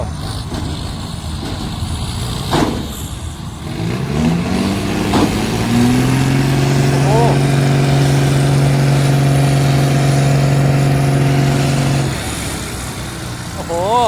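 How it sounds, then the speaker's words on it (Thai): An engine runs and builds as a vehicle pushes in beside a Thai tractor working a rain-soaked dirt yard, a steady mid-pitched drone that rises in pitch with clear revving over several seconds before settling, heard under someone talking. "รถดันมาแล้ว"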